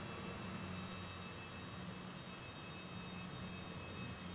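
A jet engine hums steadily as an aircraft rolls for takeoff in Microsoft Flight Simulator 2020, a low, even roar with a faint high whine and no one talking.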